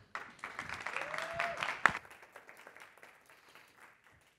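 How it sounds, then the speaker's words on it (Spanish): Audience applause at a tech talk welcoming a speaker, fairly light and brief, swelling at the start, then thinning out and fading to a quiet patter. "Un aplauso para María José"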